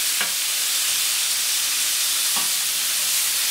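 Vegetables browning in a hot pan after slow low-temperature cooking give a steady, loud sizzle, with a couple of faint stirring scrapes and no talking.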